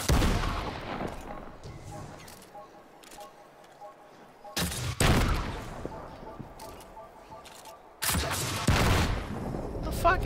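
Gunfire in the video game Destiny 2: several loud bursts of shots separated by quieter gaps, with faint game sounds in between.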